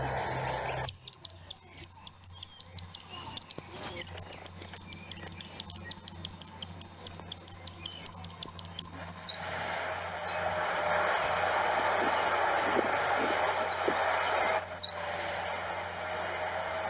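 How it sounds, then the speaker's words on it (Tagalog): A rapid, evenly pulsed series of high-pitched chirps repeats for several seconds, then gives way to a steady, hissy chorus of background calls. "Narito ang ilang halimbawa ng tunog ng mga ipon."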